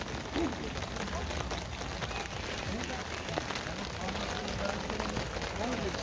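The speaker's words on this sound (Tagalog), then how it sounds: "inabutan pa kami ng ulan dito. Ayan oh. May hail pa kasama" Rain mixed with hail falls at an outdoor pond, a steady, dense patter of drops spread evenly throughout, fairly faint and continuous.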